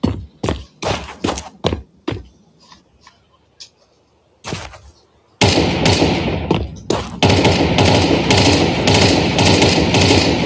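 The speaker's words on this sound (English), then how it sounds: "I'm under fire!" Gunfire in Counter-Strike 2 during a StarLadder Budapest Major match between G2 and The MongolZ: loud separate shots in quick bursts, then a dense stretch of rapid continuous fire, with no talk over it.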